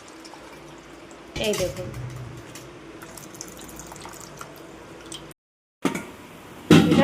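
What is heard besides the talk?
squeezing and straining milk, liquid pouring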